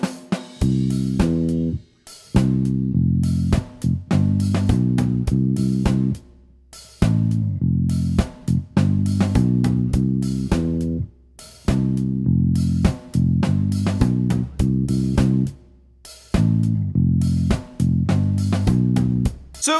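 An upbeat ska tune, a cover of a song, with a walking bass line and choppy offbeat chords, plays in short phrases separated by brief gaps.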